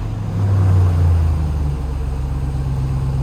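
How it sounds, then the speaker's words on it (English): A 2021 RAM TRX pickup with its Hellcat-powered engine gives a short rev: a deep, loud rumble swells for about a second, then settles back to a steady low idle. No one speaks over it. "Gonna give it a little rev?"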